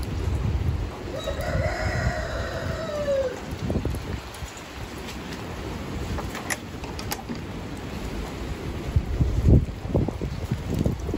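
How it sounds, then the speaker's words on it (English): A rooster crows once, a long rising and falling call near the start, over the steady hiss of rain falling in a backyard chicken area, followed by faint clucks and soft thumps. "Kaden, do chickens go out in the rain?"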